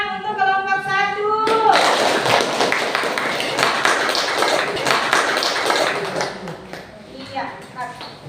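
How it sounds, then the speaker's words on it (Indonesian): A classroom group claps for the first team to present, a burst of fairly close handclaps that starts abruptly after a moment of talk and then tapers off, with voices speaking before and after it. "kita berikan tepuk tangan untuk kelompok 1"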